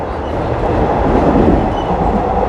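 Inside a train running from Don Mueang toward Krung Thep Aphiwat Central station in Bangkok, a loud, steady rumble and broad roar of the moving carriage fill the cabin without a break.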